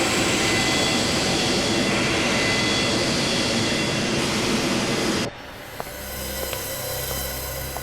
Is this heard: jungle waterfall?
no